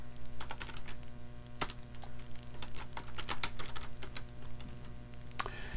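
Quick bursts of keystrokes on a computer keyboard as a sudo chkrootkit command is entered in a Linux terminal, irregular clicks clustered near the start and end over a steady low room hum.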